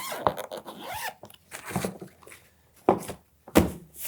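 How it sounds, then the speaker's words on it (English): YKK zippers on a Horizn Studios H5 carry-on suitcase rasp open in several short close pulls, mixed with soft thumps and scrapes of the bag being handled. "I wonder, are these YKK zippers?"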